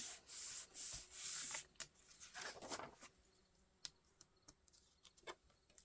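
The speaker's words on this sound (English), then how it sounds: "Give it a nice rub down." Hand rubbing down an inked paper craft piece, quiet dry scraping strokes at first, then scattered light taps and brushes.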